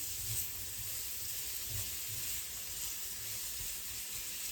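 A steady, faint sizzle of ingredients sautéing in a frying pan for a homemade spaghetti sauce, a continuous soft hiss with no voices.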